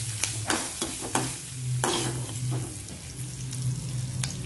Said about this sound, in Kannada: ಬೆಳ್ಳುಳ್ಳಿ ಇಲ್ಲಿ ಹಾಕಿದ ನಂತರ ಚೆನ್ನಾಗಿ ಇದನ್ನ ಫ್ರೈ ಮಾಡ್ಕೊಳ್ಳಿ